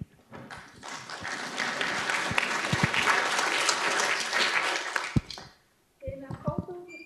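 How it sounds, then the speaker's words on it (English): A conference audience gives a speaker a welcome round of applause on a talk about open source voice, dense clapping swelling for about five seconds and then stopping, after which she begins speaking. "Have a nice welcome applause for Kathy."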